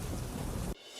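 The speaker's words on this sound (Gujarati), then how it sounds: "રાજકોટ ધોરાજીના પાટણવાવમાં ધોધમાર વરસાદ વરસ્યો" Heavy monsoon downpour roars as a dense, steady wash of rain, loud and close, then cuts off abruptly into a quieter hiss.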